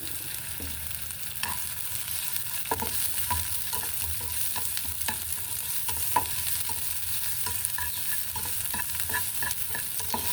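Small shallots frying in olive oil in a pan, a steady close sizzle with scattered crackles and occasional scraping stirs throughout, no voices.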